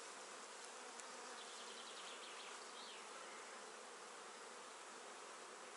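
Honey bees buzz in a hive as frames are handled during colony splitting, a dense, steady droning hum that stays constant and moderately faint throughout.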